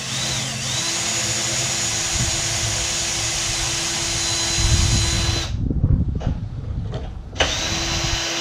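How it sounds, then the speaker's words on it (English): A power drill fitted with a drill bit works on the body of a 2005 Ford Mustang GT during a salvage rebuild, giving a steady loud whir that cuts out briefly near the end and then resumes. "So we'll get my drill bit and we'll go ahead and get started."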